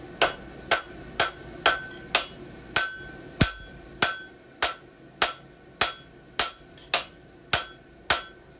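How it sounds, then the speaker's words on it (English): Repeated sharp hammer blows ring on a steel horseshoe plate while a Z bar heartbar shoe is forged, at a steady rhythm, about two strikes per second, each with a short bright ring. "Using the heel of my hammer and digging into this corner"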